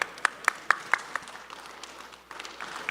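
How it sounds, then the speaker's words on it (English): A summit audience claps in a short burst of distinct, fairly close claps that thin into a softer, scattered patter, with no talk over it. "Ladies and gentlemen, give a round of applause."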